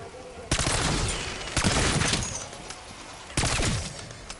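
Rapid bursts of automatic gunfire from Black Ops 6 Zombies, three loud volleys with sharp onsets and short pauses between, close and dominant with no voices.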